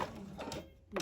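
A domestic sewing machine stitches partway down the side of a cloth face mask, then backstitches; a short burst of mechanical whirring, a brief pause, and another burst, close and fairly quiet.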